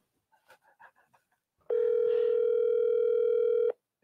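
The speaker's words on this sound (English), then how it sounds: "It's ringing." A phone call rings out with one steady, loud electronic ringing tone lasting about two seconds, after some faint brief noises and with no talking.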